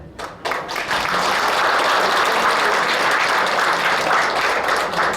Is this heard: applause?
yes